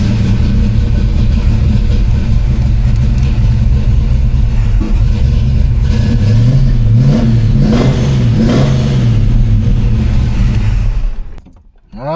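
A car engine fires up and revs repeatedly, loud and close, with rising and falling engine pitch over a steady running rumble before cutting off abruptly near the end.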